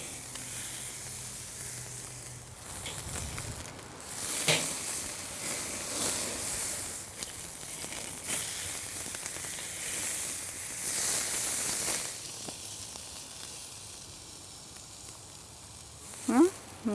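Squid sizzles on a charcoal grill in a steady broadband hiss that runs throughout, with a few sharp pops and clicks near the middle and at the end, heard close by with no talk.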